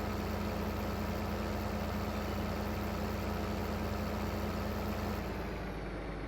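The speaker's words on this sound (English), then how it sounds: "Definitely going to use all the power of this tractor" A tractor engine in the video game Farming Simulator 15 drones loudly and steadily, a continuous heavy low rumble with a faint tonal hum and no pauses. Its level dips slightly toward the end.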